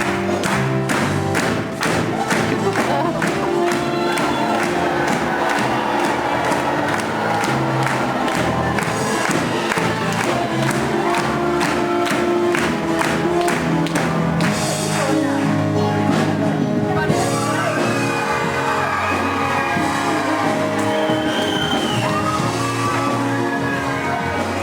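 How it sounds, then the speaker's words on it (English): Audience at a Peter Pan pantomime bow, a dense crowd roar of applause and cheering mixed with loud stage music and rhythmic thumps, shouts rising throughout. "You can feel the music, the applause."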